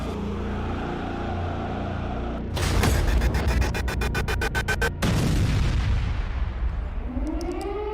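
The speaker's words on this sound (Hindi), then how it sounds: "कीव में बजा सायरन" An air raid siren in Kyiv rises in a slow wail beneath loud rumbling bursts and a rapid series of sharp cracks, all carried by a heavy, continuous roar.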